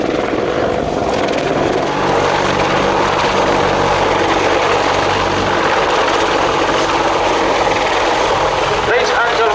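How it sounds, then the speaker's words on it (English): British Army Apache attack helicopter flying at the Royal International Air Tattoo 2017 air show, its rotor and engine roar loud and steady for the whole stretch. "the British Army Apache attack helicopter."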